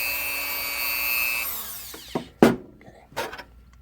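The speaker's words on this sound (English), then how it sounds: "You got your rotary tool. I like a little burr." A rotary tool runs for about a second and a half as it grinds burrs off a part for a steering arm on an inflatable pontoon, then winds down, followed by a few sharp clacks and handling noises.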